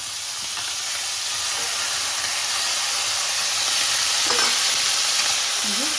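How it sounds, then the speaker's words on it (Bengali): Potatoes and figs frying with salt in a pan, a continuous hissing sizzle that holds steady throughout, with a couple of soft scraping stir strokes near the end and no voices. "একটু ভেজে দিচ্ছি আলুটাকে"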